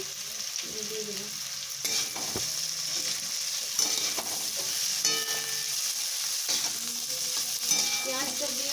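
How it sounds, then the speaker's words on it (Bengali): Long-sliced onion frying with small fish in a hot pan, a continuous close sizzle broken by occasional stirring scrapes and spatters throughout. "পেঁয়াজটা দিয়েও কিন্তু আরও ভালো করে আরেকবার ভেজে নেবো"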